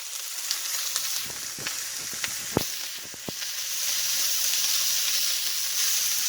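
Pork and shrimp fried rice frying in a hot pan, a steady close sizzle broken by sharp spatula scrapes and knocks at irregular intervals as the rice is stirred, with no one speaking.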